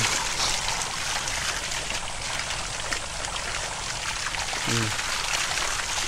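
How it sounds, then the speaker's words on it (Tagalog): Strong rushing water flowing steadily and loudly, a continuous broadband roar close by, with a brief voice under it. "malakas talaga yung tubig."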